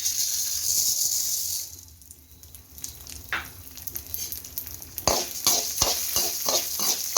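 Urad dal roasting in a little oil in a pan: a broad hiss at first dies down, then a run of sharp stirring scrapes and taps against the pan.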